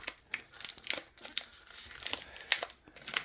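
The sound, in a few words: package being opened, plastic wrapping crinkling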